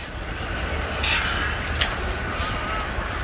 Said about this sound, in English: As the light faded even more, the birds got more and more vocal.